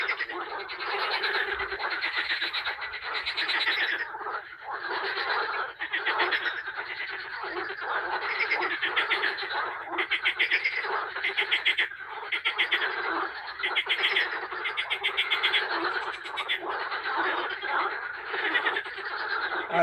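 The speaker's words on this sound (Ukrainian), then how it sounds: "Жабичі свадьби, весілля." Many frogs croak together on a pond on a May morning, a loud, dense, pulsing chorus of rattling calls that continues without pause.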